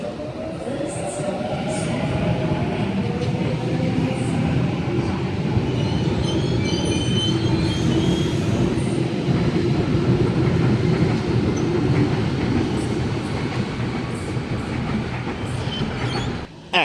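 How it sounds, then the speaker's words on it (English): A Sydney Series 1 Waratah A68 electric train pulls out of platform 3 at Lidcombe on a City Circle service, its motors rising in a steady loud whine over rolling wheel noise, with a brief squeal and a fading tail. "we have Series 1 Waratah A68, now departing platform number 3 for a City Circle service"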